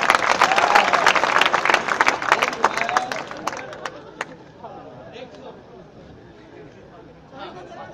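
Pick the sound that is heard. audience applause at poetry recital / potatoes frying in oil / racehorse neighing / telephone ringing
audience applause at poetry recital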